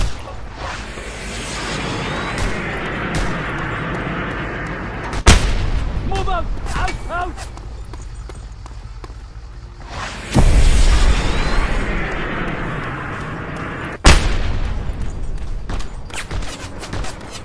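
Gunfire and heavy explosions in the video game Just Cause 2: loud booming blasts land at irregular intervals, each followed by rumbling decay, with rapid shots crackling between them in a noisy action scene.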